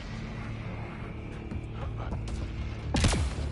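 Enemy gunfire in Mass Effect Andromeda, a few distant shots under a low rumbling background, then a louder close burst of impacts near the end.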